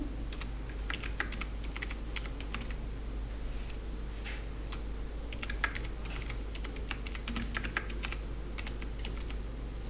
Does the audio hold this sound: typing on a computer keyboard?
yes